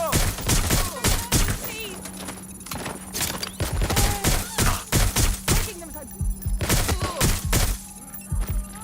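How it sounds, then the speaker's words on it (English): Gunfire in the video game Watch Dogs Legion, with repeated loud bursts of shots in rapid clusters separated by short pauses, mixed with game effects and bits of voice. "Suspect has opened fire!"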